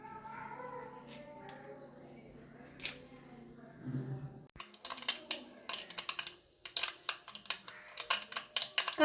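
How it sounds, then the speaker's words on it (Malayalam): Mustard seeds splutter in hot oil for a potato masala, starting with a few scattered pops and turning into a rapid run of sharp, crackling bursts in the second half. "കടുക് പൊട്ടി വന്നിട്ടുണ്ട്."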